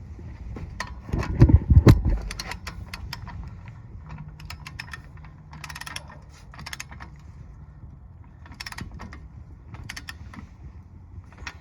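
A wrench tightens wheel spacer lug nuts on a Crown Victoria P71 police car, giving rapid ratcheting clicks in short bursts after a louder knock or two near the start.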